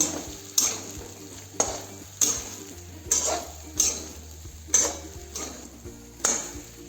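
A spatula scrapes and knocks through bitter gourd fry with stuffing in a pan, seven or so sharp metallic strokes at a regular rhythm, close and clear with no talk.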